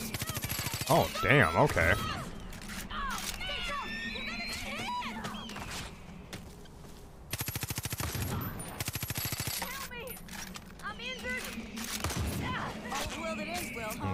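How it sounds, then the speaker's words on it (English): Bursts of rapid automatic gunfire in Far Cry 5 as shots are fired at eagles, with loud rattling volleys repeating across the clip, eagle screeches in between, and someone speaking briefly. "I did not expect to be shooting at eagles coming up here"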